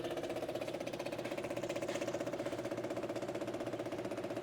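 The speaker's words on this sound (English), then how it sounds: "But the pump is pumping." An electric fuel pump runs on a VW Karmann Ghia, a steady fast buzzing pulse at an even rhythm, close and fairly quiet, with no speech.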